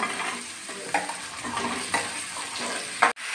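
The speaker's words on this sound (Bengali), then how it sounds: "পেঁয়াজগুলো একটু ভেজে নিয়েছি, এবার আমি কেটে রাখা সবজিগুলো দিয়ে দিচ্ছি।" Onions and chopped vegetables fry in a pan with a steady close sizzle, broken by a few scraping stirs and a sharp clatter near the end.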